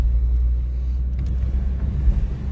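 A Ford Scorpio 2.0 GL engine idles while warming up with a steady low rumble, close by and continuous, with no voices.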